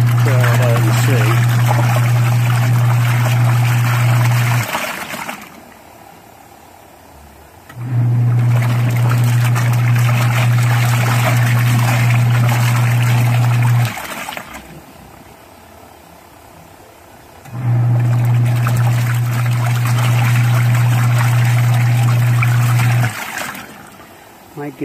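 Used Costway mini washing machine running a wash with detergent, a loud motor hum with sloshing water that churns in long cycles of about six seconds, each followed by a quieter pause, with voices heard at times.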